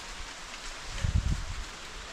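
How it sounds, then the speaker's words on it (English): Strong wind rustles the trees at a timber-harvesting site, a steady hiss of leaves with a brief buffeting gust against the microphone midway through. "Wow, it's too windy."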